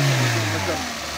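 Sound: Peugeot 206 car engine revving

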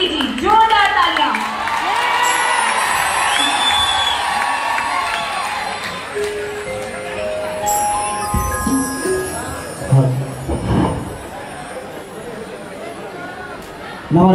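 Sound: audience cheering and applauding folk singer at live concert

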